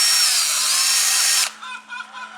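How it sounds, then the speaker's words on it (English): A power drill bores a hole through a wooden stick for a chicken treat toy, running loud and close with a high whine for about a second and a half before stopping abruptly, leaving faint rattling. "Then just drill right where the stick poked through"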